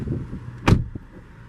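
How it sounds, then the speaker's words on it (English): A single solid thud of a 2017 Volkswagen Golf Alltrack door shutting nearby, short and muffled, in a quiet setting. "Close the door."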